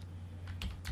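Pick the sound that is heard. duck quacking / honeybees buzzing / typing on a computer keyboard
typing on a computer keyboard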